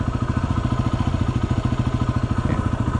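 A motorcycle engine idles slightly lower than usual, steady with a fast, even low throb and faint mechanical clatter, no talking.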